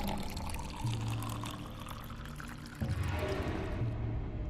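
Drinking water is poured into a glass in a quiet indoor room, a gentle continuous pour whose rising pitch suggests the vessel filling, with a fresh splash partway through, close and soft, no voices.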